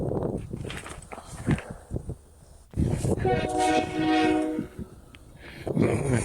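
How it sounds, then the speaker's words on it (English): A video-game train approaches with a sustained multi-tone horn blast lasting over a second, amid rumbling, clattering noise and footstep-like thumps in the game scene. "sounds like the train's coming"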